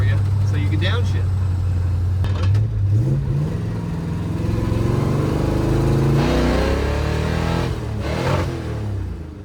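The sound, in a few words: 1958 Plymouth engine being revved hard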